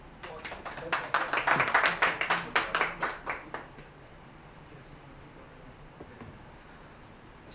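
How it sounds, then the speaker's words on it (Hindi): Audience applause at an Urdu mushaira poetry gathering in Lahore, a dense burst of clapping that swells over the first few seconds, peaks, then thins out and fades by about four seconds, leaving quiet room tone. "आपकी भरपूर तालियों में।"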